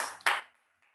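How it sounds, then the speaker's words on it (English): A single virtual clapping sound effect plays during an online ceremony, a short bright burst of synthetic applause that fades quickly into near silence. "A virtual clap, please."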